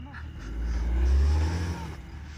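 A car stuck in beach sand revs its engine in a loud, swelling, low roar that rises and falls over a couple of seconds, heard from nearby outdoors.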